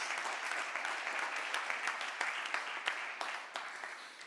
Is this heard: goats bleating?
no